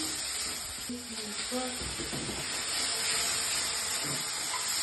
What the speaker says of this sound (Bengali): এই যে মশলা ভাজা হয়ে গেল